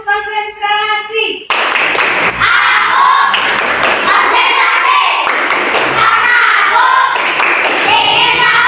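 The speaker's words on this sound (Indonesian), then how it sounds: "tepuk konsentrasi." A class of schoolchildren performing a group concentration clap, rhythmic bursts of loud claps and thumps in a repeating pattern, with children's voices chanting along over it.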